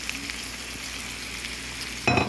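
Ground beef with cream cheese, mushrooms and onions frying in a pan, a steady close sizzle under stirring, with a louder scrape of the spoon near the end; no talking.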